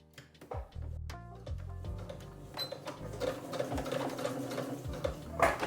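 A sewing machine stitches shirt dress pocket flaps in short runs, stopping and starting as the presser foot is raised for a pivot on a curve, with light mechanical clicks between bursts.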